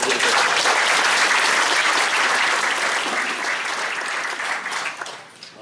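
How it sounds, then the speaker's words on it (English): An audience at an annual meeting claps for the candidates, dense and sustained, then thins out and fades near the end with no voices on top. "let's give all the candidates a round of applause"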